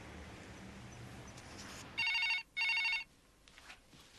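An old-style telephone bell rings in two loud bursts, each about half a second long, separated by a short gap, alone in a quiet room.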